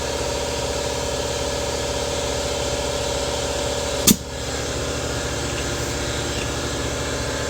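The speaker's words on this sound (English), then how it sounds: "My air compressor probably needs to kick on." An air compressor runs with a steady, loud mechanical drone that stays constant throughout, broken by a single sharp click partway through, with no talking.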